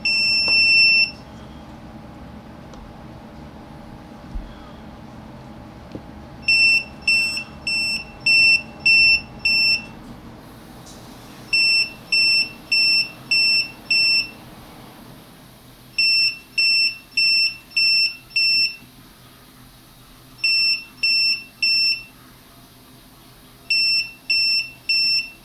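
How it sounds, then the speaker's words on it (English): A 2S LiPo-powered Eggtimer Quark flight-computer board emits loud, sharp electronic beeps in repeated groups of several quick tones with pauses between groups, after an earlier single tone. "Okay, we know we've got the beeps properly done"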